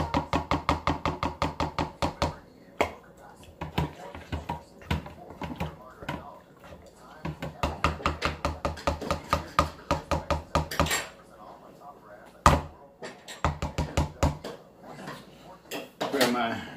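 A spoon stirs a thick, chunky melted game-day dip, making quick rhythmic scrapes and clicks against the bowl. The strokes run in steady bursts with brief pauses, close and moderately loud.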